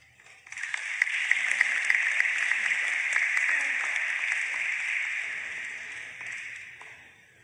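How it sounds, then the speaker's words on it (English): Applause for newly elected Committee on Elections commissioners, a sustained clapping from a gathered audience that swells quickly and fades toward the end, steady and moderately distant. "Let us once again give them a round of applause"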